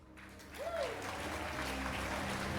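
Livestream audience applause for a game anniversary show, a steady, dense wash of clapping that swells in after a brief whistle-like tone and holds at an even level throughout.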